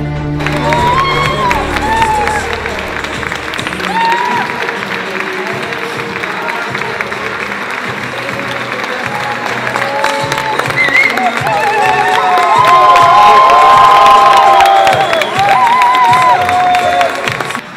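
At a diploma ceremony, graduates and the audience raise a loud crowd din of cheering, whoops and scattered clapping, swelling toward the end, with voices calling out across it.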